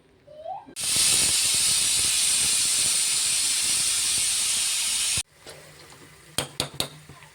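A pressure cooker whistle blasts loud and continuous for about four and a half seconds of hissing steam, then cuts off abruptly, followed by a few quieter clinks and knocks.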